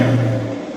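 Corvette Stingray with a mid-mounted engine in the My Driving Empire game, heard as a steady, loud engine drone with a low hum that eases off slightly toward the end.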